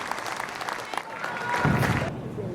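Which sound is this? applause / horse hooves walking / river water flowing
applause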